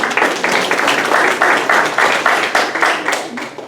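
Dinner guests at a memorial scholarship award event in Greenfield, California clap in pulsing, almost rhythmic bursts that swell and dip roughly twice a second, loud and close throughout.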